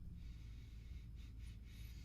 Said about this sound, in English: let's go ahead and give it a sniff test